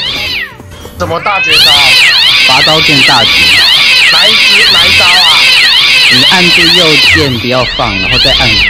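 Loud, continuous cat meowing and caterwauling from a Minecraft game fill the stretch, a dense run of repeated rising-falling meows right up close, while players talk over it.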